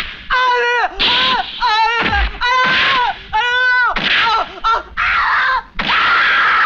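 In a Hindi film comedy scene from Tezaab, a woman screams and wails in a string of loud, piercing cries broken by short gasps. No words can be made out.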